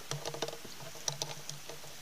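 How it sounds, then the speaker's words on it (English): Light rain patters outside an old poor law union workhouse in Llanfyllin, with soft, scattered, irregular taps close by and no voices. "Oh God, it's raining."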